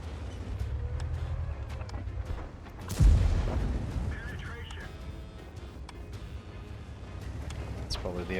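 A tank's main gun fires once in World of Tanks, a single loud boom with a rumbling tail standing out over steady engine drone while someone talks before and after.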